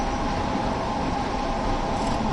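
Steady train running on a preserved railway route in Train Sim World 2, a continuous rumbling drone with a broad hiss, even and close throughout with no talking.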